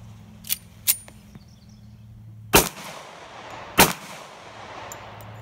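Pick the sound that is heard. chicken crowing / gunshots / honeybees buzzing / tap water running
gunshots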